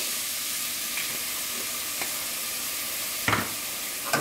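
Vegetables for a tomato and roasted red pepper soup sauté in oil over medium-low heat, giving a soft, steady sizzle with a few light stirring clicks and a brief louder scrape near the end.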